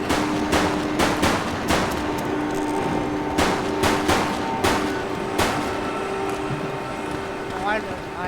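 Bursts of gunfire in a video game police shootout crack out in quick irregular volleys, loud and close over a steady hum, with a short gap before each new string of shots.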